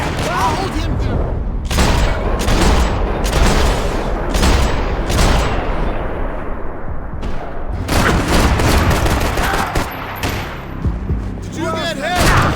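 Loud, dense gunfire from the video game Max Payne 3: repeated bursts of shots and booming impacts nearly throughout, with people talking excitedly over the combat.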